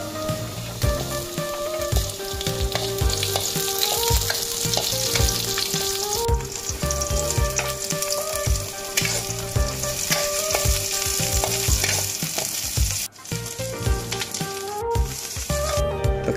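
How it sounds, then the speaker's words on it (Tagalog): Garlic, onion, ginger and star anise sautéing in a hot pan for balbacua, a loud, steady sizzle and crackle throughout with occasional stirring scrapes. "magigisa na ako ng bawang, sibuyas, luya, at star anise"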